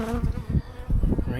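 Honey bees swarm close around an opened beehive during an early spring inspection, giving a dense, loud, wavering buzz with no break.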